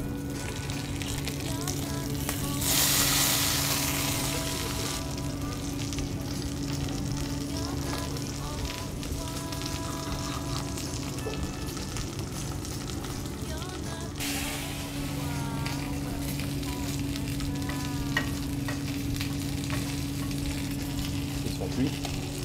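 Farm guinea fowl from Auvergne cooking gently in a casserole pot, a steady soft sizzle with frying crackle throughout and two brief louder bursts of hissing.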